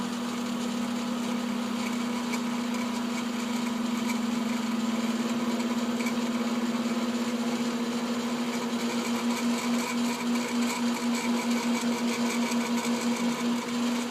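A small electric motor in a lab setup, driven through an AC-DC converter, hums and whines steadily at close range while it runs up toward 900 RPM, with the tone pulsing slightly near the end.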